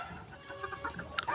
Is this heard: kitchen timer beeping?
no